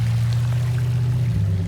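Water pours steadily into the cab of a lifted Ford F350 truck while mudding on a golf course, a continuous loud gushing over a deep, even engine drone.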